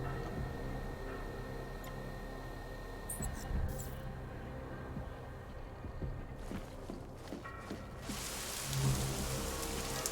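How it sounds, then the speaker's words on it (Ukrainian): Light rain patters steadily on surfaces, faint and even, with scattered drips and a few brief louder bursts of noise. "І в Празі теж дощ."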